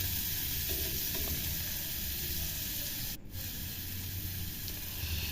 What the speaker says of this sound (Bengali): এরপর আমি খুন্তির সাহায্যে খুব ভালো করে টমেটোটা ওই মশলার সাথে মিশিয়ে নিচ্ছি।